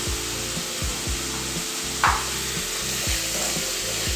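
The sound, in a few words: onion, ginger-garlic paste, chilli and curry leaves sautéing in pan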